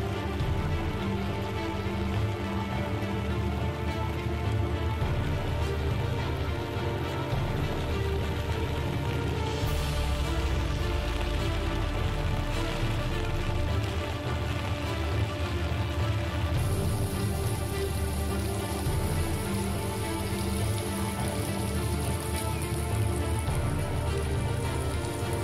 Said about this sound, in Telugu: భద్రాచలం దిక్కైతే రికాము లేకుండా వాన పడతనే ఉన్నదుల్లో.